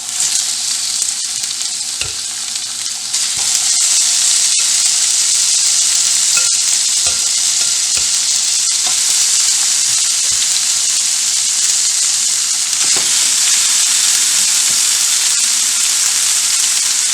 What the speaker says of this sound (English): we're going to braise these to the brown on both sides, and then we'll get them in our pot and in the oven